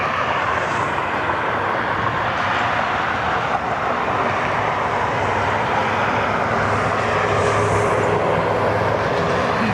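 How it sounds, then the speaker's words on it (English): A Delta Airbus A220 jet airliner departs toward Minneapolis, its engines producing a loud, sustained broadband roar that holds steady for the whole stretch without any talking. "Delta 1449 Airbus A220 heading to Minneapolis"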